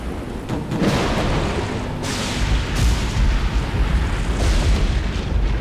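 Dramatic thunder rolls in ahead of a heavy rainstorm, deep booming rumbles that swell and fade several times across a dense, noisy roar, loud and continuous with no voices.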